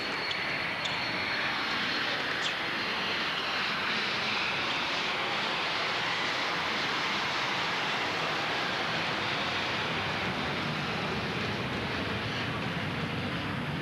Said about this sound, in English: No sound of ball on racket then because of the aircraft overhead.